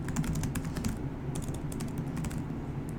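Rapid typing on a computer keyboard, a steady run of crisp keystrokes with a brief pause midway, close and clear with no talking.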